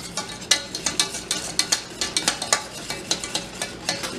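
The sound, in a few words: stirring sugar and milk in a pot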